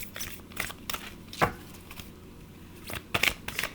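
Tarot cards being shuffled by hand, a run of short papery riffles and flicks spaced irregularly and close to the listener, with no talking over them.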